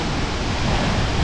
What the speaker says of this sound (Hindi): गाइस हम पहुंच गए टाइगर फॉल और ये देखो कितना प्रेशर है इस पानी में।